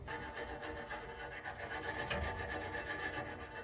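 Rhythmic close scraping and rubbing as soot is worked off the edges of a furnace pilot assembly, a quiet gritty back-and-forth rasp with no talk.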